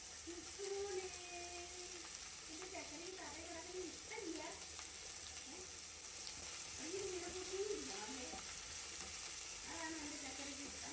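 Finely chopped onions sautéing in a pan while prawns dry fry is being prepared, a soft steady sizzle with a spatula scraping and stirring at intervals, and a voice talking over it.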